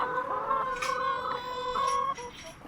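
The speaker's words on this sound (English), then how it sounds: "Oh, chickens." Chickens cluck and chatter nearby, several overlapping calls in short bursts over a quiet background.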